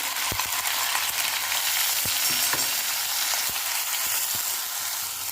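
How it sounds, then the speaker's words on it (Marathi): Onion paste frying in a pan for a sprouted moth bean curry, a steady close sizzle and hiss throughout with occasional soft stirring clicks, no talking. "कांदा छान भाजून घ्यायचा आहे आपल्याला कलर चेंज होईपर्यंत"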